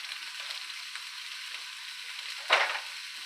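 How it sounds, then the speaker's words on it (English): Country mild sausage browning in a cast iron pan, a steady quiet sizzle throughout with one brief louder hiss as the meat is stirred or moved. "basically what I'll do first is just brown this meat"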